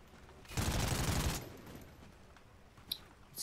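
Gunfire from the video game Call of Duty Ghosts: a loud, dense burst of rapid shots lasting about a second, then quieter game ambience and a single sharp crack near the end.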